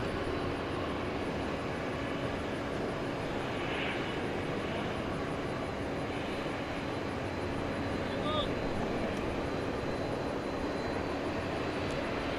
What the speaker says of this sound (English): It's an Airbus A321 going to Las Vegas.